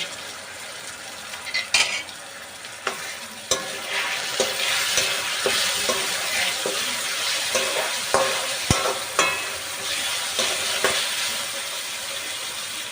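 Two medium tomatoes hit hot oil with onions for a dhaba-style egg masala gravy, giving a steady close sizzle with frequent spoon stirs and pan scrapes and a few sharp clinks, no talking.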